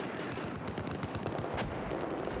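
Gunfire in a 16v16 conquest match of a military shooter: a steady, dense run of sharp shots, close and loud, firing in quick succession throughout.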